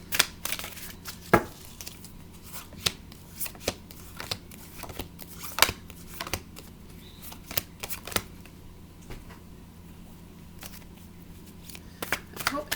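Tarot cards are shuffled and handled close by, with scattered crisp snaps and flicks arriving at an irregular pace over a low steady background hum.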